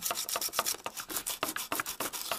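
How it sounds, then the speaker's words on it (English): Plastic is roughed up by hand so glue will grip, a fast rhythmic scratchy rubbing heard close and alone as repeated back-and-forth strokes. "I want to rough the plastic so my glue is going to stick a little bit better"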